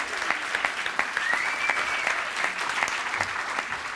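A concert audience applauds a rock band at an Austrian awards event, a steady dense clapping at close range, with a faint voice briefly audible.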